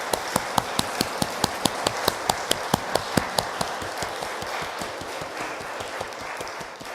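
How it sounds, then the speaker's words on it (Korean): A church congregation claps in rhythm for the youth group after their worship song. The claps are evenly spaced and crisp, strong at first and then fading softer over a steady background hiss. "우리 귀한 찬양을 들려준 청년부에게 우리 박수 한번."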